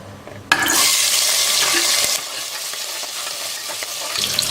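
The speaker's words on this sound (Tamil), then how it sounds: "வெங்காயம் நல்லா வதங்கிடுச்சு" Small onions hit hot sesame oil with a sudden loud hiss, then keep up a strong, steady sizzle before easing to a softer, continuous frying crackle nearby.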